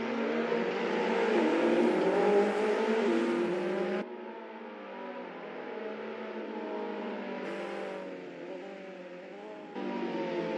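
Race cars accelerating off the line at a race start in the Assetto Corsa racing game, with a loud, steady engine roar and rising whine that drops back after a gear change and continues at a lower level.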